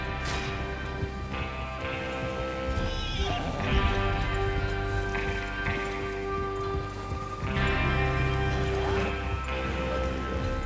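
Horses clop and snort amid busy background noise in Red Dead Redemption 2, with a whinny breaking through now and then, a steady stream of hoofbeats throughout.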